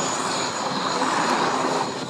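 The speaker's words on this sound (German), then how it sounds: "am Ende seines Displays hat Major Wanitzki seinen Hubschrauber hier eine Verbeugung vor den Zuschauern machen lassen und bewegt sich dann seitwärts" An Mi-24 Hind military helicopter passes at an air show, its turbine and rotor roar forming a loud, continuous broadband rush without speech.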